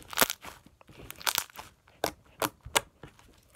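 Crunchy slime squished and pressed in an ASMR session, giving a run of sharp crackling crunches in irregular bursts, close and fairly loud, with no talking over them.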